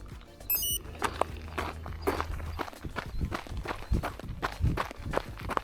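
Running footsteps at the start of a 16-mile long run, a steady rhythm of close foot strikes on pavement, with no talking over them.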